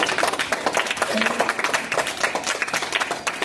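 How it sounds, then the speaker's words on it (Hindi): Loud applause from students in a temple gurukul class fills the whole stretch with dense, steady claps and a crowd murmur beneath. "एक बार जोरदार तालियां हैं"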